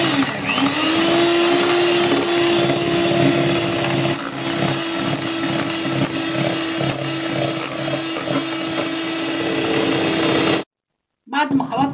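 Electric mixer whirring steadily as it mixes cake batter with a cup of light corn or sunflower oil, a loud, sustained motor hum for about ten seconds, then cutting off abruptly, with a voice speaking over it.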